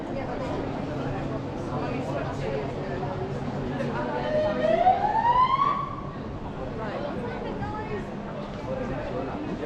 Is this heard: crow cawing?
no